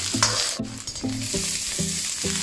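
Scallions hit hot oil in a wok and crackle with a steady broadband sizzle as they are stirred, while faint tonal notes repeat in the background.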